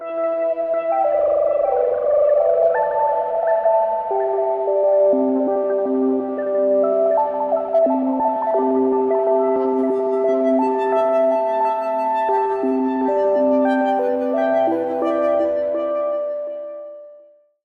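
A Eurorack modular synthesizer plays an ensemble oscillator through a filter swept by a slow triangle LFO, giving layered sustained tones that drift and pulse gently for a long stretch, alone with no voice, before fading out at the end.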